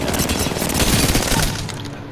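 An R99 submachine gun in Apex Legends fires a fast, continuous burst of close, loud shots that tails off quickly.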